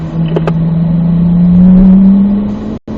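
A racing car on a track accelerates hard out of a corner, its engine note steadily climbing in a loud, close, continuous drone.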